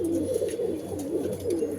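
A pigeon coos in a steady, rolling rhythm, several soft throaty calls close by with a low hum underneath.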